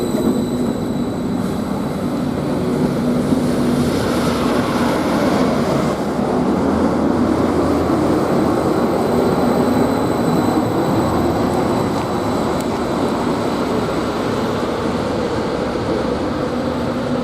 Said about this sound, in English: But I'm going to keep this rolling because this Cambridge train should be depart any second.